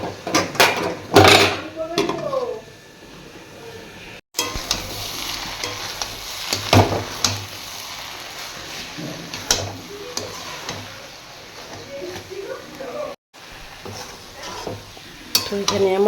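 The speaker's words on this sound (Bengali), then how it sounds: "বাঁধাকপিটা এখন কষানো হচ্ছে।" Shredded cabbage sizzles and hisses in a pan while a spatula scrapes and clatters against the metal in uneven strokes, close and fairly loud, with a short break partway through.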